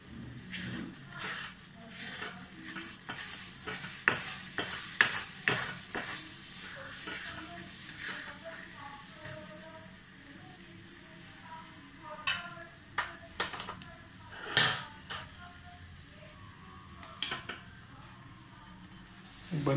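A sweet mango mixture boils in a pan while being stirred, giving soft bubbling and sizzling with intermittent scraping and tapping of the spoon, fairly quiet and close.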